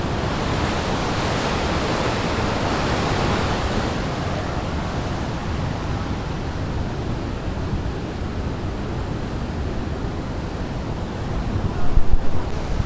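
Water released through the Harike dam gates roars in a dense, unbroken rush, loud and close, with wind buffeting the microphone near the end.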